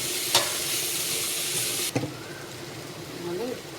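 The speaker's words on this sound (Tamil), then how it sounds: "நல்லா ஒரு கிண்டி எடுத்துக்கலாம்" Turnip poriyal stirred in a pan: a soft steady sizzle with two sharp scrape clatters from the spoon, after which the frying fades into a quieter hiss and a voice is briefly heard.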